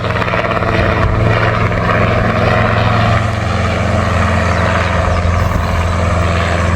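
A helicopter tries to land nearby, a loud continuous rotor and engine roar with a steady low throb that holds throughout, close and dominant, with no talking.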